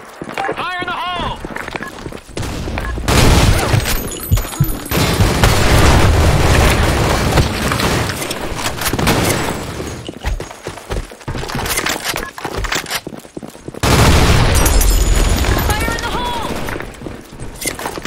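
Grenade blasts and gunfire in a first-person shooter capture-the-flag match, with several loud booming bursts spread across the stretch, mixed with rapid shots and player voices talking over the action.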